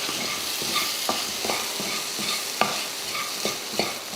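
Egg masala with tomato and boiled eggs frying in a pan, a steady sizzle broken by repeated scraping clicks as a spoon stirs it, close and alone.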